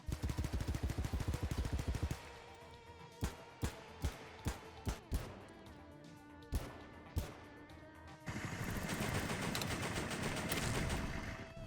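Bursts of rapid automatic gunfire in the game BattleBit Remastered, then a series of single sharp shots spaced about a second apart, followed by a sustained loud barrage of fire.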